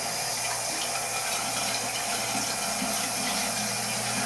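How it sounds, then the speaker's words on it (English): Tap water running steadily into a sink while wetting a shaving brush, a loud continuous rushing stream that fills the whole stretch without a break. "I'm going to add some more water."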